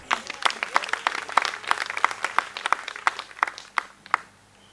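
Scattered, sparse clapping from a small audience at a university alumni association launch in Mombasa, individual claps clearly separate and fading out by the end, with a faint murmur underneath.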